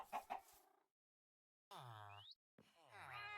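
Chicken in the video game Minecraft, a few quick clucks followed by a pause and then two longer drawn-out squawking calls, close and clear.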